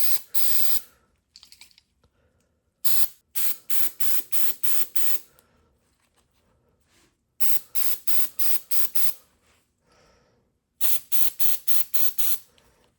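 Short bursts from a spray can of cleaner hit the MAF sensor of a Subaru Forester, fired in quick clusters of four to six hisses with brief pauses between groups, close and crisp with no talking.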